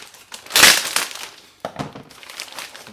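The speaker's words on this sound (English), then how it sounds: "It was wrapped in a giant plastic bag." Plastic crinkles and rustles in bursts as it is handled, loud and close, with a pause before more crackling.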